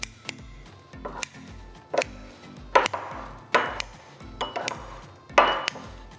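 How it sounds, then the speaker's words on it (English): Kitchen scissors snip ingredients for a Korean California roll, giving about eight crisp, evenly spaced cuts against a quiet background, some louder than others. "grab some scissors and start snipping"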